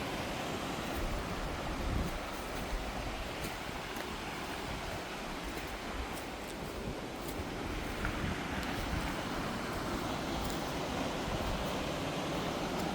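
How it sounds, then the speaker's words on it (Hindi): A steady, broad rush of a waterfall below a hiking trail, constant and fairly distant, with no voices and a faint breezy wash over it. "प्यारी आवाज़ झरने की।"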